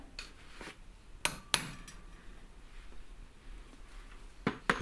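Sharp metallic taps of a hammer striking a center punch on sheet metal while marking a hole on a cream jug, a few separate clinks spaced apart, close and clear.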